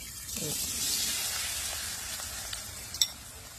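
Shrimp fry in hot oil in a pan, giving a steady close sizzle and hiss. A couple of faint utensil clicks sound near the end, with no talk over it.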